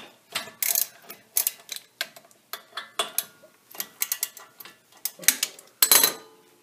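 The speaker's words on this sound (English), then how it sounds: "We're going to take these two bolts all the way out and get the brake caliper out of the way." Wrench working the 13 mm brake caliper mounting bolts on a Jeep Wrangler YJ, a series of sharp metallic ratcheting clicks and clanks in uneven bursts, close and fairly quiet, no voices.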